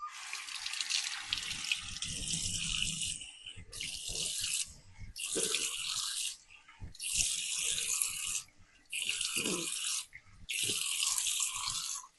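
Water from a bathroom sink tap splashes during a face rinse, coming in six loud bursts of running water broken by short pauses and soft wet handling sounds.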